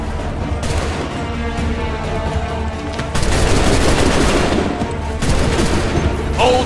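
Musket volleys in Assassin's Creed 3 crackle as ragged massed gunfire, loud and dense, with a heavier burst partway through and a shouted voice over the battle.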